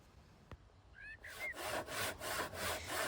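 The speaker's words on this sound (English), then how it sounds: "I was really surprised how good results I got with that rusty old handsaw" Rusty old handsaw cutting into a wood log: a sharp tap and brief squeak, then rhythmic rasping push-pull strokes, about six close, fairly quiet and regular.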